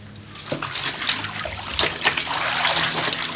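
White clothes being rinsed by hand in a basin of water, with steady sloshing, trickling and splashing up close as the fabric is squeezed and lifted, and no talk.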